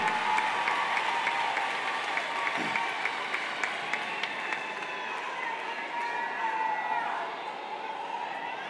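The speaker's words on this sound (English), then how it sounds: "Let's give a big round of applause" A graduation crowd at Mergenthaler Vocational Technical High School applauds steadily for several seconds, a dense wash of clapping with scattered cheers, moderately distant and fairly quiet, with some voices mixed in.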